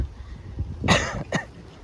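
Two close, rough coughs come one after the other, the first heavier, with quieter breathy sounds before them.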